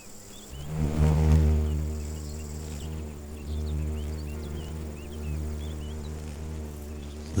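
Poppy mason bee buzzing in a cornfield, a steady low droning hum with strong harmonics that swells early then holds on at moderate loudness, with faint higher insect chirps scattered in the background.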